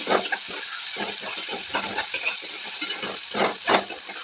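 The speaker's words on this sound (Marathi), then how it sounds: "ती मी डाळ आता त्या कांद्यामध्ये ॲड केली आणि डाळ आणि कांदा मी छान असं हलवून घेते" Soaked masoor dal and chopped onion stirred in hot oil in a pan, a steady close sizzle with repeated scraping strokes of the spoon, alone without talk.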